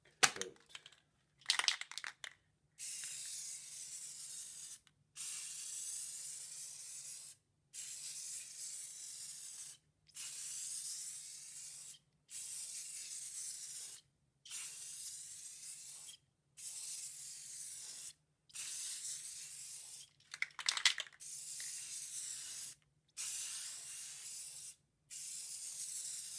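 Clear coat is sprayed onto a carbon fiber wrap in a series of about a dozen hissing bursts, each lasting a second or two and separated by brief pauses, close and fairly quiet, with no talking.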